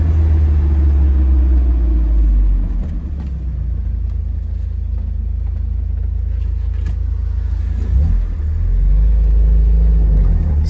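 A 1973 Alfa Romeo Spider with a 2-liter engine drives along, giving a loud, deep, continuous rumble from inside the car that dips in the middle and then swells again as it pulls.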